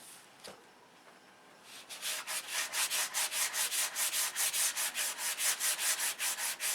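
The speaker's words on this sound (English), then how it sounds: "So let's get some sandpaper and start shaping. Let's see what will happen with 220." A cowl is rubbed with 220-grit sandpaper in quick, even back-and-forth strokes, a close rhythmic rasping that starts after a brief quiet pause and keeps a steady pace.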